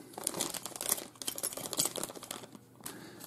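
A heat-sealed plastic bag is crinkled and handled close by, giving a continuous irregular run of crackling, rustling bursts with brief pauses, and no talking over it.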